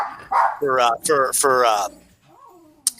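A voice imitates a dog barking frantically, producing several loud, harmonic yelping bursts in quick succession close to the microphone, followed by a quieter trailing whine.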